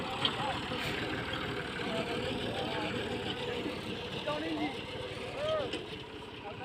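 A tractor just push-started in a Pakistani village in winter runs with a steady, low, rumbling idle, moderately distant. People talk over the engine throughout.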